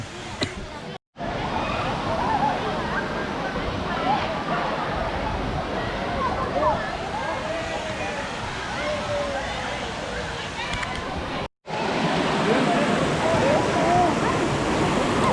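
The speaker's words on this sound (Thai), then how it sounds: "น้ำตกตายาย" Ta-Yai waterfall rushing steadily and loudly throughout on a crowded Buddhist Lent holiday, with a busy hum of many people in the background and two brief dropouts.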